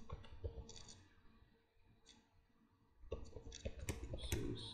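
HTML code being typed on a computer keyboard: faint, scattered key clicks grow into a denser, louder run of tapping toward the end, close by and with no speech.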